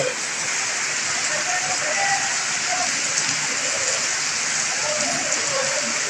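Torrential thunderstorm rain falls in a constant roaring wash of drops on the ground and roofs, loud and close, with a faint voice talking beneath it.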